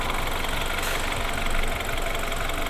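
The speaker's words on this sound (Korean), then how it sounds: "엔진 소리도 일정합니다." A BMW 528i engine idles steadily up close, a constant low rumble with an even mechanical chatter and no change in pitch.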